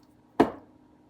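A knife chops once through a half cup of butter, a single soft, dull cut that fades quickly into quiet, with no voices.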